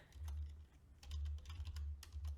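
Quiet typing on a computer keyboard to enter answers into a form, soft irregular key clicks in short bursts over a low steady hum.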